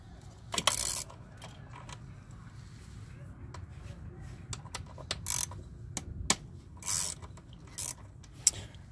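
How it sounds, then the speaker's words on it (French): A ratchet unscrews bolts on a Peugeot 1.2 throttle body, giving short clicking bursts at irregular intervals, close but fairly quiet over a low background hum. "Et on dévisse."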